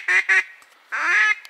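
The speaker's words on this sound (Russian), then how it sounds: "Вот сколько утки северной пришло." Northern ducks quacking in loud, dense bursts at close range, two short volleys followed by a longer chorus, heard during a goose-hunting trip outside Moscow; no talk.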